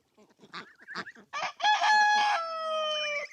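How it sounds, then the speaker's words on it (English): Backyard hens clucking, followed by a loud, close rooster crow that holds for over a second, with short clucks and calls at the start and no talking. "I got some chicken ladies here hanging out with me as well"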